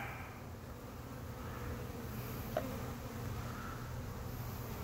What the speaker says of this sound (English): I'd say you had a box of bees right here